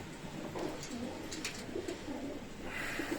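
Soft pigeon or dove cooing in low repeated phrases, several birds together against a steady background hum, with brief higher chirps.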